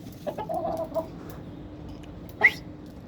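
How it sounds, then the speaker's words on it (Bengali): A rooster of a breeding pair on a rooftop gives a few soft clucks, followed by one sharper, louder call near the end, close by over a low steady background hum. "দেখুন এই রাতাটির কাজটি দেখুন"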